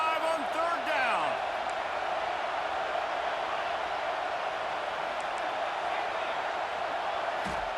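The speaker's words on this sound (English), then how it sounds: "The Buckeye crowd alive on third down." The Ohio State Buckeye football stadium crowd roars on third down, a steady dense wall of cheering heard from far off beneath a play-by-play announcer's voice.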